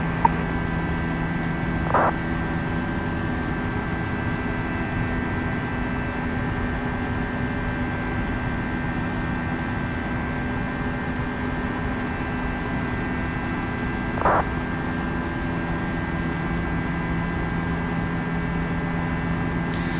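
Steady drone of an Airbus A320 in flight in a flight simulator game on a Heathrow to Aberdeen route, a constant hum with faint tonal whine and two brief soft clicks, no talk.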